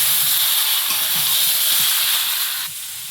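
Ground cumin and coriander mixture hitting a hot wok sets off a loud, dense hissing sizzle that holds steady, with faint low stirring knocks, then drops in level near the end.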